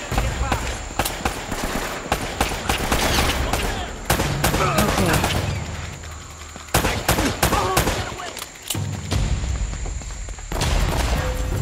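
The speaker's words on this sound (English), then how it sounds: "They're shooting at you too, you know." Rapid gunfire rattles through a firefight in the video game Uncharted, with sustained loud volleys and scattered shots continuing across the scene alongside other game sounds.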